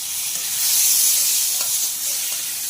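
Mixed winter vegetables with cauliflower stalks fried and stirred for chorchori, making a loud, close, continuous hissing sizzle with a couple of faint scrapes, no voices.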